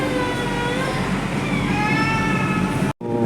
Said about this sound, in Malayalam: മെട്രോ സ്റ്റാർട്ടായിട്ടുണ്ട്.